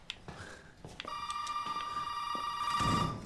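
A telephone rings inside the Resident Evil 7 video game, a sustained electronic ring tone that holds for a couple of seconds after a few short beeps and clicks, fairly quiet.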